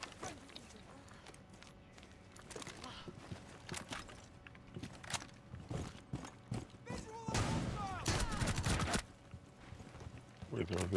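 Rapid gunfire and sharp impacts crackle through a Rainbow Six Siege round, clustered in irregular bursts with a dense, louder stretch near the end, mixed with footsteps and other game noise while a player talks over it.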